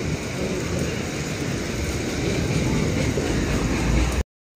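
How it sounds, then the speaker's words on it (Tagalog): Steady rain hisses loudly and evenly, a dense wash of droplets without a break, then cuts off abruptly. "ulan na naman dito guys"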